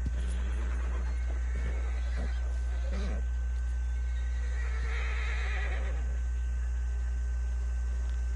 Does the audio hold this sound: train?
no